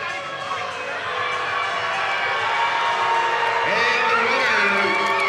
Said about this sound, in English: The crowd is going wild here.